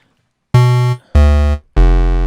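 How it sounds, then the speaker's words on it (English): Three sustained notes of a clean synth bass played in Logic Pro X, each a rich harmonic tone held about half a second with a quick fade and short gaps between, loud and alone. "a fairly standard clean bass sound"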